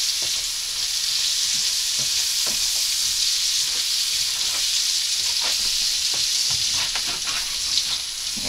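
Pork for a goulash sizzles steadily in a pan, a dense continuous frying hiss with scattered clicks and scrapes as the meat is stirred, close and without talk.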